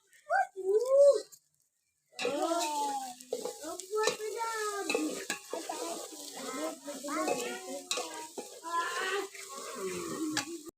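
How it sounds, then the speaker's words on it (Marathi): Masala spices roasting and being stirred in a pot over a fierce wood-fired chulha, with scraping and a light sizzle. A voice talks over much of it after a brief opening sound. "आईनं मसाला भाजून घेते बघा आणि जाळ बिचुलीचा एकदम फास्ट म्हणजे लागलाय बघा"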